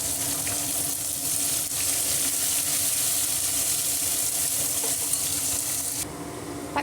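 Onions and cashews fry in a pan for paneer peas pulao, a constant close sizzle with light stirring scrapes that runs unbroken until it drops near the end.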